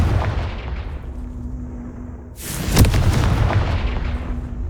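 Confringo fire spell blasts in Hogwarts Legacy: a rumbling boom fades, then a sharp, loud burst hits and rolls into a sustained low roar.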